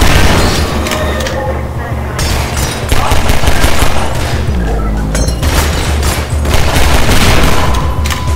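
Rapid bursts of gunfire from a fast-shooting weapon in the video game Half-Life 2 rattle loudly and continuously, with heavy booming impacts throughout and a few brief gaps between volleys.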